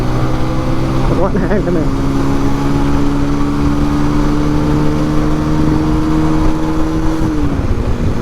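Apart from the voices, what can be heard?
Bajaj Pulsar 150 motorcycle accelerating in second gear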